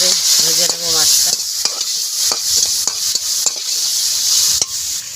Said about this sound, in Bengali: চিংড়ি মাছটা এখানে আস্তে আস্তে করে ভাজা হবে আমার তরকারির সাথে সাথে।